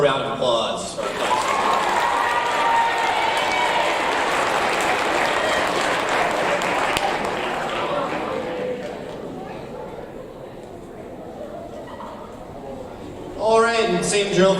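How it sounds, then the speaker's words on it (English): Applause for a seventh grade class at a school awards ceremony, a sustained crowd clapping that fills most of the stretch, fading toward the end before a voice speaks briefly. "One more round of applause for our class"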